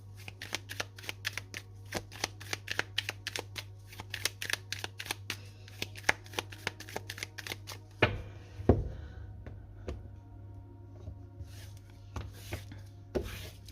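Everyday Tarot cards shuffled close up in a rapid series of crisp riffling flicks, a couple of louder knocks as the deck is squared midway, then more scattered quieter shuffles, all over a low steady hum.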